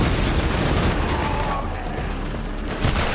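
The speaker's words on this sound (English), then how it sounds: "We're under fire." Dense, rumbling gunfire from Borderlands 2 fills the whole short stretch, a continuous barrage of shots and booms at steady loudness with no pauses.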